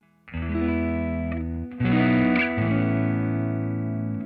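Line 6 Pod GO guitar amp model with an Orange or old Fender flavour on stock settings: an electric guitar strums a few sustained chords that ring out with light crunch, chorus and effects, played alone and fairly loud.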